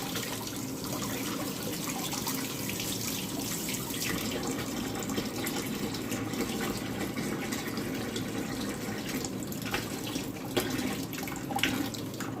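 Tap water runs steadily into a sink while raw shrimps are rinsed under it, a constant close splashing hiss that holds at an even level throughout, with no voices.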